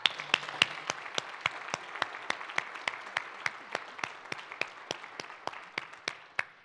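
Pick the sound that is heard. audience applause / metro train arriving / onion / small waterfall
audience applause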